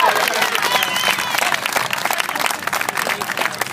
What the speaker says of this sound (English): Big round of applause for Daniel Pearce.